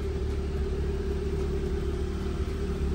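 A 1989 Nissan Pulsar NX car engine with original exhaust idles steadily with a low, even hum and a faint purr, no voices.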